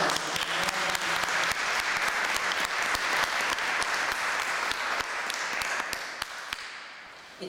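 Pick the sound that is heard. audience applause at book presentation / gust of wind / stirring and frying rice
audience applause at book presentation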